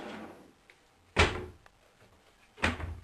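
Cupboard doors in a kitchen shut one after another, two sharp, fairly loud thumps about a second and a half apart, with quiet room tone and faint rustling between them.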